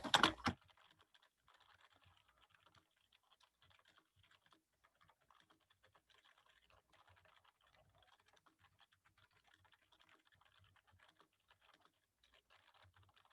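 Computer keyboard typing while a document is edited: a loud initial thump, then a long run of light, rapid keystrokes at a steady, irregular pace, close and quiet, with no talking.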